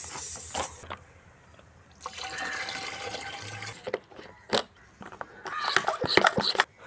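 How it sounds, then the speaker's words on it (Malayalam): Diluted hydrogen peroxide water is sprayed over vegetable plants in several hissing bursts, close to the microphone, with short pauses between them and some handling noise. "അപ്പോൾ നമുക്കിത് സ്പ്രേ ചെയ്ത് കൊടുക്കാം."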